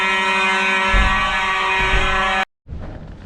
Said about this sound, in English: all of a sudden, we had to wake up due to this fire alarm.